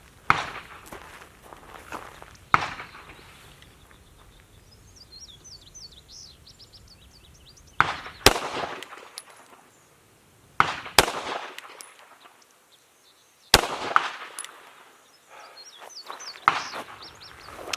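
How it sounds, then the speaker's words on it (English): Gunshots ring out at an outdoor shooting range, sharp, loud cracks spaced a few seconds apart, with faint birdsong and quiet rustling in the gaps. "Same second target, I'm gonna shoot again from right here."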